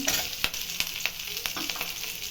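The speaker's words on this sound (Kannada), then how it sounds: "ಈರುಳ್ಳಿ ಬೆಳ್ಳುಳ್ಳಿ ಶುಂಠಿ ಒಂದು ಐದು ನಿಮಿಷ ಫ್ರೈ ಮಾಡಿದ್ದೀನಿ ಟೊಮೆಟೊ ಇದ್ದೀನಿ" Tomatoes fry with onion, garlic and ginger for a mixed sprouts sambar, a steady close sizzle broken by a few sharp clicks of stirring.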